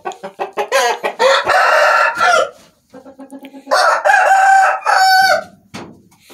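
A red-feathered rooster crows loudly and close, with a few quick clucks leading into two long cock-a-doodle-doo calls separated by a short pause.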